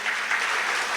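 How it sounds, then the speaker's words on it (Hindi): Audience applause for a speaker introduced at a Sikh job fair interview-preparation event; dense, steady clapping fills the whole second with no talk. "एक बारी जोरदार तालियां अमित जी वास्ते।"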